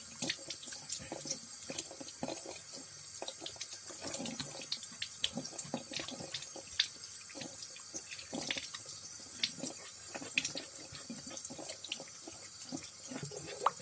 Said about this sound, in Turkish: pipetimizi yıkamaya devam ediyoruz